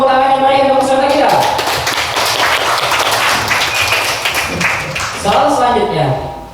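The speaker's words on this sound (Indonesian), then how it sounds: "beri tepuk tangan yang meriah untuk peserta kita" Audience applause for contestants at a village Quran quiz competition, a burst of dense clapping in the middle with a host's amplified voice before and after.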